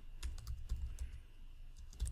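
Rapid, soft key clicks from a computer keyboard as a code comment is typed, an uneven run of quiet taps close by with no voices.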